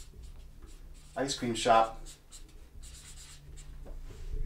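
Soft, close scratching of a pen writing on paper, faint and intermittent, while someone briefly speaks.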